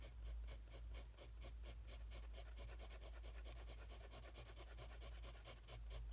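A pencil shades paper for a self-portrait in quick, even back-and-forth strokes. The scratchy rubbing is close, quiet and continuous, and no one speaks.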